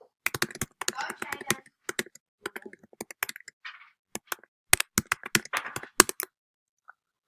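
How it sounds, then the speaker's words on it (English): Loud computer keyboard typing during a game session, rapid irregular clacks of keys in quick flurries with brief pauses, close to the microphone, with a faint voice murmuring between bursts. "if my keys are really loud."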